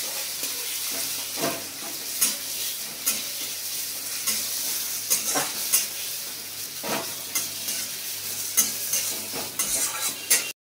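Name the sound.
onions frying in oil and ghee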